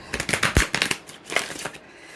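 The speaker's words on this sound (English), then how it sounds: "if I could shuffle these cards." A deck of tarot cards is shuffled close by in quick, riffling bursts of papery slaps and flutters, in two short runs separated by a brief pause.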